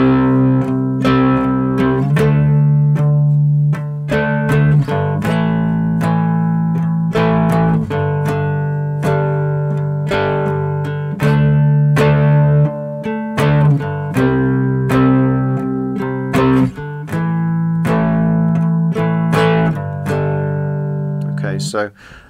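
A three-string cigar box guitar strums a song in steady chords, with bright plucked attacks and a few single strings picked out louder, close and continuous, with no voices.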